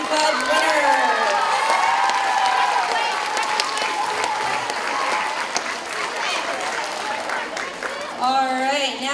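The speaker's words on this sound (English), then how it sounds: "another round of applause for our Lions Club winners" Audience applause at an elementary school Veterans Day ceremony, a sustained burst of clapping and cheering from a crowd of children and adults filling the room, with excited voices and shouts mixed in and tapering near the end.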